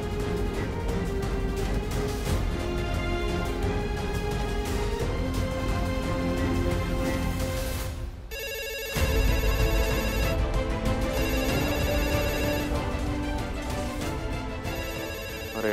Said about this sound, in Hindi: कब से फोन बज रहा है